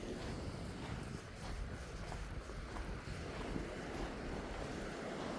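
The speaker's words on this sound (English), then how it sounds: "It's breezy right now," Steady breeze at Wainuiomata Beach, a continuous broadband rush with surf mixed in and mild gusting buffets against the microphone throughout.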